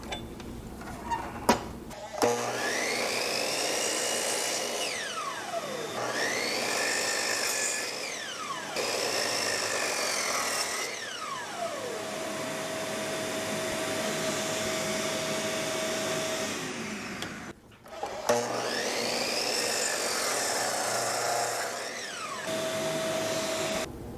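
A miter saw fitted with a Freud crosscut blade slices through Baltic birch plywood, its loud motor whine rising and falling over three or four repeated cuts, with brief pauses between passes and no voices.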